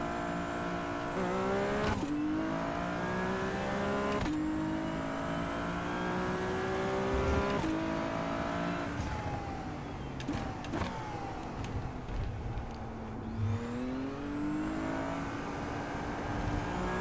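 A Ferrari 296 Challenge car in the iRacing simulator accelerating hard, engine note climbing through the gears with sharp drops at each shift, loud and continuous with no voices.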